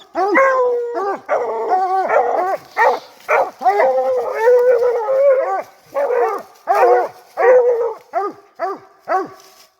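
A 10-month-old dog named Blue Dog howls and bays close by in a long run of drawn-out, wavering calls broken by shorter barks, loud and repeated with brief pauses.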